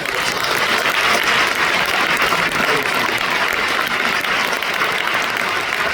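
Church audience applauding at a film director's lecture, a continuous, full wash of clapping from many hands, steady and fairly loud throughout with no talking over it.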